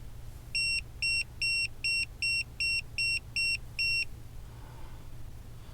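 A vehicle tilt warning alarm sounds nine evenly spaced electronic beeps, about twice per second, over a low engine hum that continues after the beeps stop.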